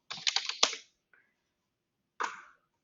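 Quick keystrokes tap on a computer keyboard while entering numbers and words into a Word 365 document: a short flurry of clicks, a faint single tap, then another brief burst, all close and quiet against silence.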